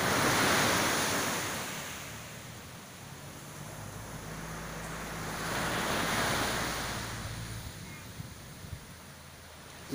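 Sea waves roll onto a quiet sandy beach at Khao Phlai Dam, Sichon, Nakhon Si Thammarat, in southern Thailand, with broad swelling washes rising and falling, plus steady wind rumble on the microphone.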